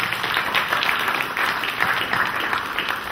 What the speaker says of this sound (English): Let's give Chris a nice round of applause